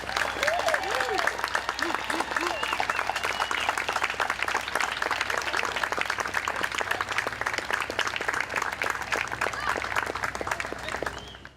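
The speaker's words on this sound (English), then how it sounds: "so we can all give you applause" A crowd at a July 4th patriotic program applauds veterans with long, steady clapping, a dense rhythmic patter of many hands that stays loud throughout, with cheers and voices woven in before it fades at the close.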